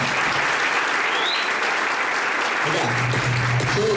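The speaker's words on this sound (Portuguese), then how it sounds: "Mais uma vez, um forte aplauso a eles." An audience at a business event in Fortaleza claps loudly and continuously, a dense roar of many hands. A voice briefly speaks over it near the end.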